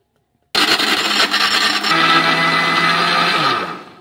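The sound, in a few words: mixer grinder grinding rock sugar (misri)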